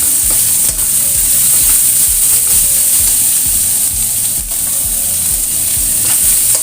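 Carrots tossed into a pan of stir-fried chayote with shallots and garlic set off a loud, constant sizzle, with rhythmic scraping stirs repeating close up.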